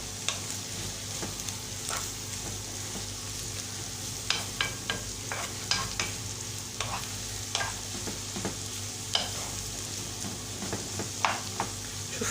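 Onions frying in ghee in a pan, a steady close sizzle with repeated stirring scrapes and small clicks throughout, no talking.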